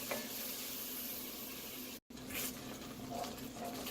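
Whole-milk gravy for chicken fried steak heating toward a boil in a pan, a steady soft sizzling bubble close by with no talk.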